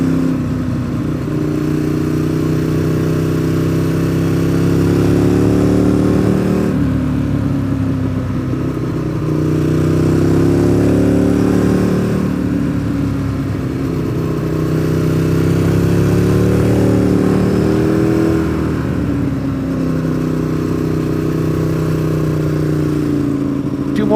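Mazda Miata cars pass one after another on a road, engines swelling and fading in long drive-by sweeps, loud and fairly near, with no talking over them.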